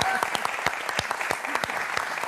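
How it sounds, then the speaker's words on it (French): Studio audience at the Motus game show applauding, a dense, steady burst of clapping from many hands that lasts the whole short moment, close and fairly loud. "Allez, on applaudit Myriam, s'il vous plaît."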